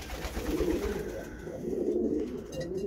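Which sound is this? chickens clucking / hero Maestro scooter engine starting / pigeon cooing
pigeon cooing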